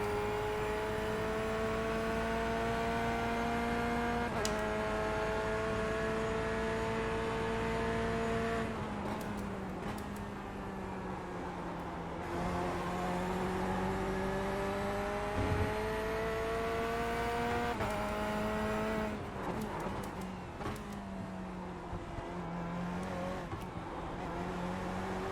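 A C8.R Corvette race car in iRacing, its engine droning close and loud with rising revs and several gear-change dips along the way, alone with no talk.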